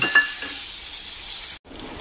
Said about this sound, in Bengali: কুমড়োটা এটাও ভাজা করে নেব